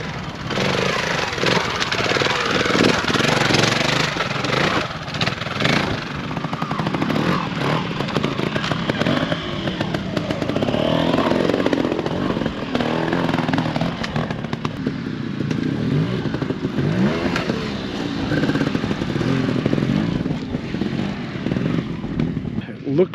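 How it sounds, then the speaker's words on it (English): Trials motorcycles climbing a valley at a moto trials event at Heathcote, their engines a steady rough drone with clattering revs throughout, with a voice talking over the noise. "Looks like we've got some bikes coming up the valley, heading to the next area."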